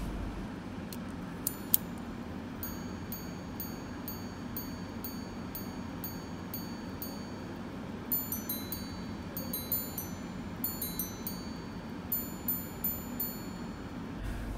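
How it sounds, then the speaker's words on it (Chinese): A Girard-Perregaux minute repeater watch chimes in delicate, high metallic strikes, first a slow run of single tones, then paired quicker dings, then single tones again, faint and close over quiet room noise. "我们一起欣赏下芝柏标的三问钟声"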